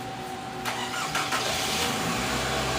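A car engine cranks and then catches, a loud close churn that rises into a running engine within a few seconds, with no talking over it.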